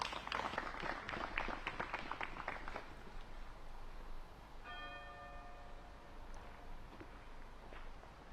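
A church bell in Nokia rings out once with a long, shimmering decay, heard faintly at a distance after a patch of crowd noise and footsteps at a disc golf tournament.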